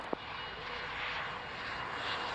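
A Belgian Air Force aircraft lands on runway 27 with a steady, broad engine roar heard from a distance, holding level throughout after a brief sharp tick at the start.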